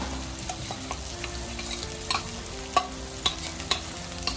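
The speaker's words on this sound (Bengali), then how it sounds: "ভালো করে মিক্স করে নিচ্ছি" Poppy seed paste and mustard paste stirred and mixed in a hot pan for a prawn and fish curry: a steady sizzle broken by repeated sharp scrapes and knocks of the spoon, close and alone.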